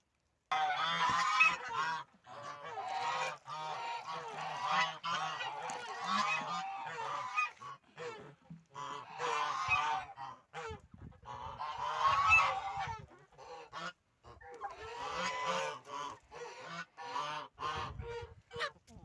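A flock of village geese honks loudly and repeatedly in close bursts, calls overlapping in long noisy stretches with brief pauses between.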